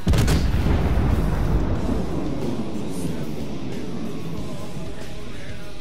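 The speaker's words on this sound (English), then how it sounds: "Dude, the sounds of the gun." Heavy gunfire in a World War II–style war video game with Russians and Germans, a loud booming blast at the start followed by a rumbling decay and continuous low battle noise.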